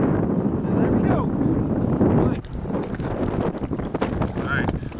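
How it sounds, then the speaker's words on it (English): Cold wind buffets a fishing boat during early-season bass fishing, a continuous rough roar and rumble on the microphone with muffled voices underneath. "Really cold and windy."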